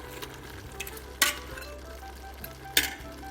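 Albanian peppers and spices sautéing in a pan, a steady low frying sizzle running throughout, broken by two sharp clinks of a utensil against the pan.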